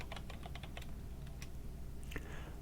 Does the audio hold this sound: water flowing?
no